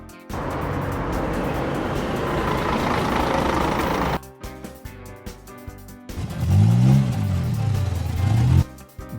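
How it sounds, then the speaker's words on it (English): Animated flatbed truck engine rumbling steadily, then cutting out briefly before returning with a rising rev, loud and close with no talk. "Flatbed truck."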